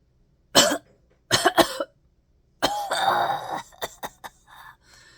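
Several sharp coughs in short bursts, followed by a longer rough, strained throaty sound and a few quick hacking coughs, close and fairly loud.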